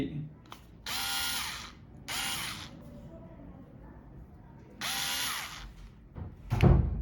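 The adjustable torque collar on a Black and Decker cordless screwdriver is turned in four short bursts of rapid, close ratcheting clicks, separated by quiet gaps with faint background sound.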